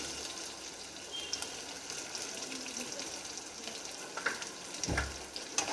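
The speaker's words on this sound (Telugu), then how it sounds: "దీన్ని కూడా ఫ్రై చేసుకున్నాం." Onions frying in a pan while cooking a mushroom biryani, a soft steady sizzle with faint crackles and a few light clinks of a utensil.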